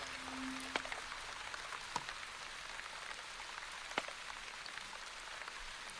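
Game rain from The Wandering Village falls as a steady, soft hiss throughout, with a few sharp drop-like ticks standing out now and then, no voices present.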